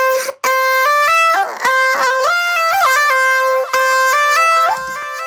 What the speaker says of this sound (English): The first thing I got was a vocal from Splice.